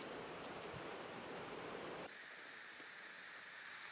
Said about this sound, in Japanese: 雨がもう結構ひどい。 うわうわうわ。 打ちつけるような雨です。